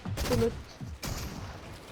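Bursts of gunfire in a multiplayer video game crackle in quick fusillades, two loud clusters of shots separated by a brief pause, mixed with faint voices in the background.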